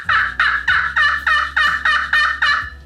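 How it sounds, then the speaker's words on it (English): A slate turkey call scratched with a striker gives about eight loud, close, evenly spaced yelping notes in a steady rhythm, with no talking. "that's where you're going to get that really nice friction, making those really nice turkey noises"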